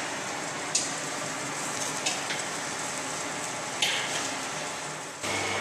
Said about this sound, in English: So for the moment we're just going to wait for that to reduce.